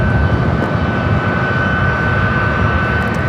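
An Alaska Airlines Boeing 737 MAX 8 arriving at Los Angeles airport gives a steady, loud jet roar with a faint high engine whine running through it, continuous and unbroken for the whole stretch.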